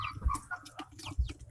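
Chickens and young chicks from red, white and blue hens clucking softly, a few low close clucks and brief peeps in quiet, short bursts with no talking.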